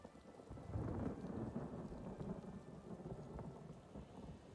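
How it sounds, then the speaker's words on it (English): Rain and thunder in the video game Elder Scrolls Online: a low thunder rumble rolls under steady rainfall pattering on surfaces, with no talk. "Lovely, it's raining inside."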